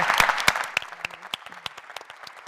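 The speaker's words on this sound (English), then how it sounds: "a huge round of applause for our panelists" Applause from a conference audience for a panel of speakers, a dense burst of clapping at the start that thins into scattered individual claps toward the end.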